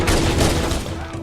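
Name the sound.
gunfire shooting Marines in video game Halo: Combat Evolved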